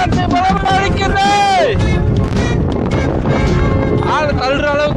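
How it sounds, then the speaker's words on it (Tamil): Strong wind buffets the microphone at a hilltop viewpoint at Ramakkalmedu on the Tamil Nadu–Kerala border, a constant loud roar running throughout under people talking and a voice nearby. "இங்க காத்து பலமா அடிக்குது"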